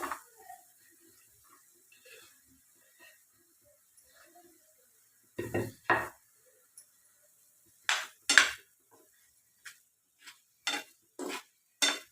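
Chopped apple pieces go into a cooking pan with a few scattered, close metallic clanks and scrapes of a utensil, separated by quiet gaps.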